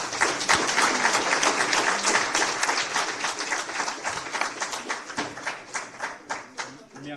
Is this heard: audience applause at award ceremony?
yes